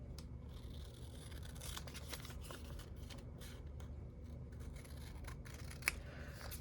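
Scissors cutting paper for a junk journal, a quiet series of soft snips and crisp slicing strokes over a low background hum.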